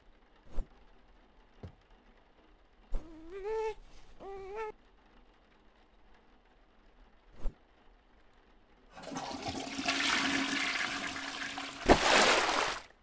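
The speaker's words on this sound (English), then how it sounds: "First, I flush him down in the toilet." A toilet flushes in a horror video game, a loud rushing gush of water lasting several seconds after scattered sharp clicks and a short wailing baby-like cry in otherwise quiet surroundings.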